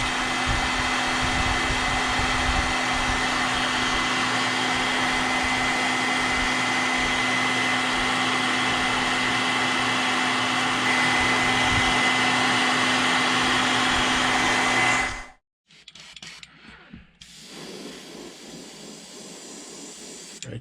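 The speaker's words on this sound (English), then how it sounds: "All right, let's dry that. A little heat set" A heat gun drying fresh paint on a hand-carved wooden muskie lure blows a steady, loud airy hiss with a constant hum for about fifteen seconds, then cuts off abruptly, leaving only faint handling sounds.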